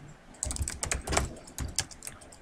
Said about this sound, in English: I'm going to type all computers